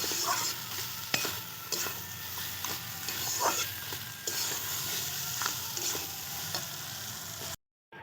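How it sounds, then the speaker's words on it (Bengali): Rohu fish head and Gobindobhog rice are sautéed in a pan, a continuous close sizzle broken by repeated scraping stir strokes and utensil knocks, ending in a brief sudden silence. "ভালো করে কষিয়ে নেব"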